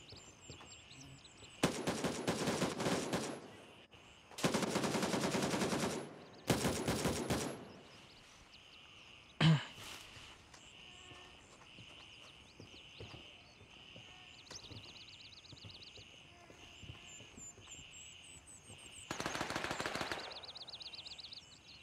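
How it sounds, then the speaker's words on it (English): Bursts of automatic gunfire and machine gun fire in the video game Gray Zone Warfare, several loud sustained volleys separated by gaps, one sharp single shot in between, and distant crackling shots throughout. "I hear me so many gunshots going off next to me"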